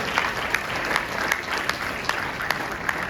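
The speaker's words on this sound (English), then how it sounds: "You really have to give yourself a round of applause." Guests at a formal speech event applaud themselves, a continuous crowd clap with regular sharp, louder claps standing out near the listener roughly every half second.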